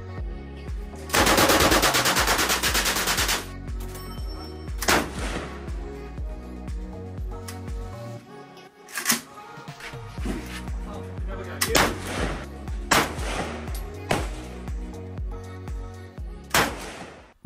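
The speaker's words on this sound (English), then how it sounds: "Jack chose the M60 and I chose the AK-47. Just a warning, this is very loud," An M60 and an AK-47 fire at a shooting range in Vietnam: a long sustained machine-gun burst, then repeated loud, sharp shots and short bursts, close and reverberant.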